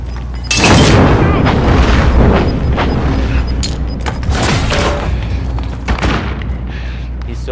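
Grenade explosions in Call of Duty: Modern Warfare, a heavy deep boom followed by several more blasts and rumbling debris in a loud gunfight, with distant shouted voices underneath.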